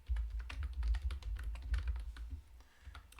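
Someone types code on a computer keyboard in a steady patter of close key clicks, with short pauses between bursts.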